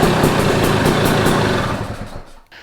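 A dirt bike engine runs loud and close in a garage with a dense, buzzing roar that holds steady, then drops away near the end.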